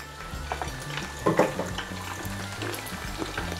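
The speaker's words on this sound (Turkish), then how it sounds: "Çok güzel kızarıyorlar ama." Food frying in a pan on a stovetop, a steady close sizzle and crackle with a brief burst of spattering, no talk.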